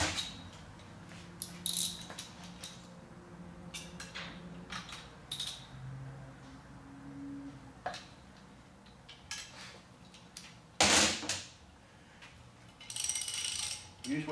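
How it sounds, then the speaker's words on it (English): Metallic clicks, ratcheting and tool clatter sound while the camshaft is loosened on a Gen5 LT1 engine, with intermittent sharp bangs and a louder clank near the middle. "we're going to loosen up the camshaft and see if we have enough slack in the stock gears to retard that camshaft a few degrees"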